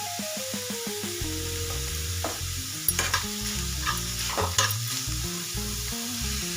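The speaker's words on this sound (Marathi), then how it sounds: "मीठ घातल्याने आपल्या भाज्या लवकर परतल्या जातात मिठाने." Vegetables sautéed with salt in a hot pan for a wheat-flour and semolina dhirde batter, a loud continuous sizzle with scraping stirs and clinks over background music.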